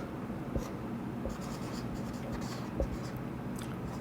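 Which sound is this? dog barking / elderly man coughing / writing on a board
writing on a board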